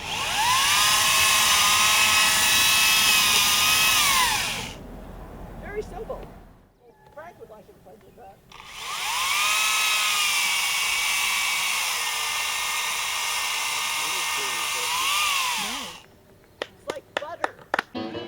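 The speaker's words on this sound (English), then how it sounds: "The chainsaw is not a problem." A chainsaw limbing trees at a wildfire-prevention event: two sustained high, whining buzzes of several seconds each, revving up and down, separated by a short lull, with people talking nearby and scattered sharp clicks at the end.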